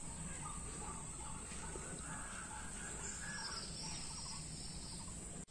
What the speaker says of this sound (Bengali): পাখির আওয়াজ শুনতে পাচ্ছো তোমরা?